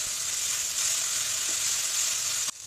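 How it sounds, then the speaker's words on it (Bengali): Prawn dopiaza masala with cumin powder sizzles in a pan as a little water is added for sautéing, a loud, continuous hiss with a faint clink of a utensil near the end. "একটু জল দিয়ে কষিয়ে নেব"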